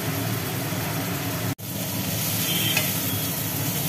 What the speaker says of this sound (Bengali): তাহলে চিংড়িগুলো এখন ভাজা চলছে